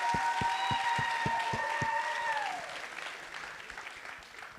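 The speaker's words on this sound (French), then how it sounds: "On peut encore les applaudir une fois." An audience applauds at a film festival closing ceremony, a dense, sustained round of clapping that fades out gradually, with a sung or sustained musical tone over the first part.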